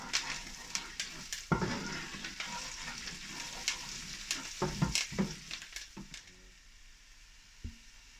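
Close sizzling of food frying in a pan, with frequent sharp pops and crackles and occasional stirring scrapes, fading quieter toward the end.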